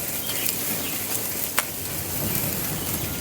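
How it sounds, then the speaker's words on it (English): A ribeye steak sears in a hot pan with butter, giving a loud, close, continuous sizzle with one sharp pop partway through. "We're just a few flips in and we're building a beautiful sear."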